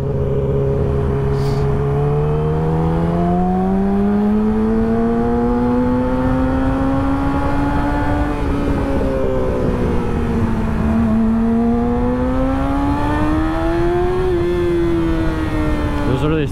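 A car cruises through slow highway traffic, its engine making a steady close drone heard from inside the cabin, the pitch climbing and dipping as the car speeds up and eases off.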